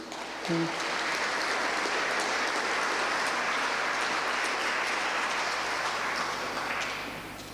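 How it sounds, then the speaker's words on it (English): An audience applauds at an awards ceremony in a town hall, producing a dense, sustained wash of clapping for about seven seconds that fades out at the end. "Can we have a round of applause, please?"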